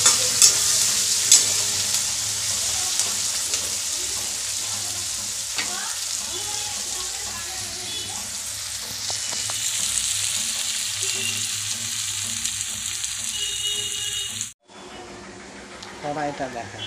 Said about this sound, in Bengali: কুচানো কিছু পেঁয়াজ দিয়ে দিলাম, পেঁয়াজ এই দিয়ে এগুলো বাদামি কালার করে ভেজে নেব।